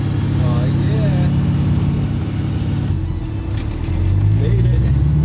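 A car engine rumbles steadily at road speed, its tone shifting as it accelerates, with tire and wind noise throughout.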